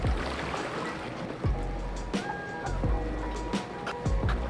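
Laps in a chilly hotel pool in Baguio: rhythmic splashing strokes and sloshing water surge in repeated bursts, close by, with faint voices in the background.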